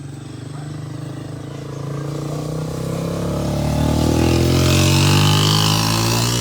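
A car being moved, engine running and building in revs, close by and growing louder toward the end, with faint background noise.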